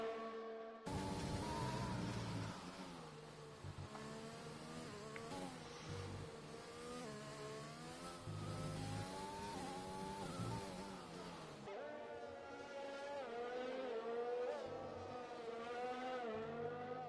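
F1 video game race cars lap Sochi Autodrom, a loud, near engine whine rising and falling through gear shifts with brief tire squeals, continuous throughout.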